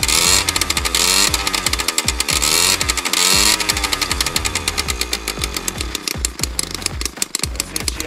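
Engine of a Suzuki JR50 dirt bike running warm off choke, a loud, close, buzzy two-stroke rattle that revs up sharply with the throttle then drops back toward a choppy, pulsing idle.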